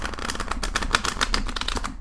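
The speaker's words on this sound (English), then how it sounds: "I'll give them one last shuffle here." Tarot cards riffle close by in a rapid flutter of dense clicks, lasting about two seconds before tapering off.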